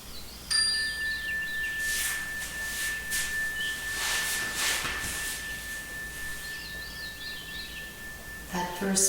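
A meditation bell chimes once during a yoga class, a sustained pure ringing tone that hangs and slowly fades across several seconds under soft background sound, with a second bright strike near the end.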